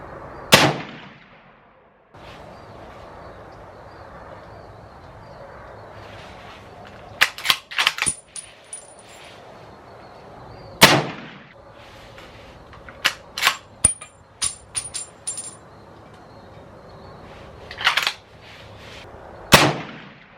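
Ruger Go Wild rifle chambered in 300 Win Mag fired for a three-shot group: sharp, loud single cracks spaced several seconds apart, with fainter distant shots and clicks between them and no talk.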